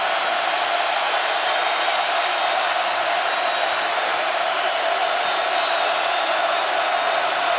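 A basketball crowd at Mackey Arena roars in a continuous, loud, broad wash of cheering that holds steady throughout with no break.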